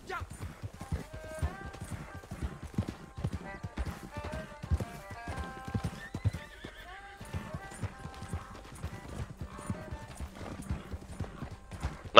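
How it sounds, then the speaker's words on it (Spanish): Horse in Red Dead Redemption 2 Online, steady clip-clop hoofbeats close by with a whinny partway through and a soft sound-effect chime over them. "Mira, el caballo"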